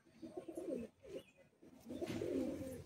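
Soft cooing from a red-veined Madrasi pigeon at a loft, a few low throaty coos in two short bursts, close and quiet with no talking.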